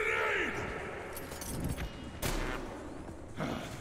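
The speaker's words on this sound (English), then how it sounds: "What is the sound your gun is making?" Gunfire in the post-apocalyptic shooter Metro Exodus: sharp bursts of shots, including a loud crack near the middle and another near the end, mixed with clattering game effects and a voice talking throughout.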